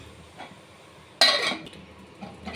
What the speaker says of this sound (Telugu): మూత పెట్టేస్తాను కొద్దిసేపు